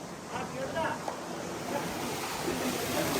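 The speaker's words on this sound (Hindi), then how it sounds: "पानी हो गया चालू।" Tubewell water gushes steadily into a tractor trolley used as a pool, a continuous broadband rush with people talking over it.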